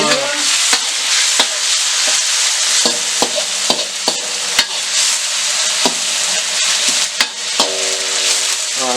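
Pork sizzles steadily in a hot pan, with sharp clicks and scrapes of a utensil stirring the meat throughout, loud and close with no talking.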